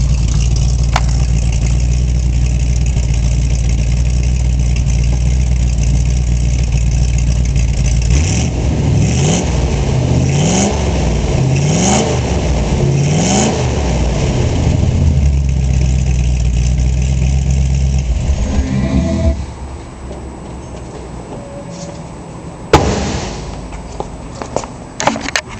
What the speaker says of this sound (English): let's hear the rumble. It's got the sort of a stock 2-into-1 exhaust.